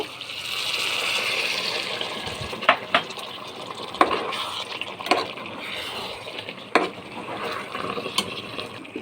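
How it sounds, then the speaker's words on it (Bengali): Hot water is poured into a pot of kacchi biryani as it cooks, a continuous rushing gush over sizzling, with a few sharp knocks and clatters from the pot along the way. "পানি দিয়ে দেব"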